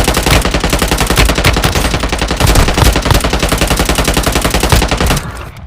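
Loud, sustained automatic gunfire in the video game Warzone Mobile, a rapid continuous stream of shots that cuts off near the end, leaving a brief quieter tail.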